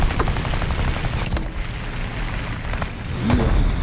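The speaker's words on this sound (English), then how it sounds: "Artillery strike!" Artillery strike and gunfire in a War Thunder ground battle, with dense, continuous rumbling fire and repeated impacts over a few seconds, and a heavier boom swelling near the end.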